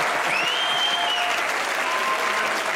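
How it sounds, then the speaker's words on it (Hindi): Studio audience applause on a Pakistani comedy talk show, a dense steady wash of clapping held throughout at even loudness. "एक बार तालियां हो जाए"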